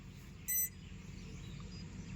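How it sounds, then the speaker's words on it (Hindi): A short electronic beep sounds once from an agriculture drone with its safety engaged, faint against a low steady background hum. "अभी जो आप बीप की साउंड सुन रहे हो, इसका मतलब ये है कि इसके अंदर हमने अभी क्या करके सेफ्टी ऑन करके रखी है।"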